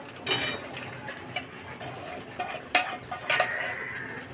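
Jackfruit and fried prawns are being stirred into a spice paste in a pan for a curry, with scattered scraping and clinking knocks of the utensil against the pan, fairly faint and intermittent.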